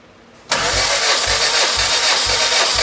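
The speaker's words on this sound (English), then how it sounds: "We'll crank it from the key, and then each cylinder should build compression" A car engine cranks from the key during a compression test, starting abruptly after a short quiet moment and then churning loudly and close with a steady, evenly spaced low pulsing from the turning cylinders.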